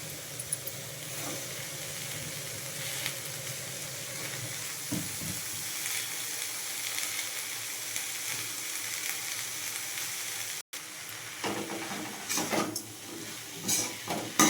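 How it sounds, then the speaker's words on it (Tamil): Continuous soft sizzling as onions, tomatoes and turkey berries fry in a pan, with occasional stirring scrapes and clatter, close and steady throughout. "வெங்காய தக்காளி வதக்கினோன்னே நான் சுண்டைக்காய் போட்டுருவேன்."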